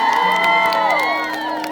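A concert crowd at a live rock show in Makassar cheers and whoops for the guitarist, with shrill shouts and overlapping voices rising and sliding over a steady background roar.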